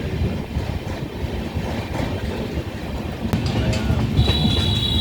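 A train rolls into Meerut City Junction on the outskirts of the station, with a constant rumbling clatter of wheels on track and a brief high metallic squeal near the end.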